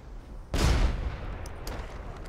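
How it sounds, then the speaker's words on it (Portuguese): A single sharp grenade blast in a video game, a sudden loud boom with deep low-end punch that decays over a second into lingering rumble, followed by faint distant clicks. "Granada no cara."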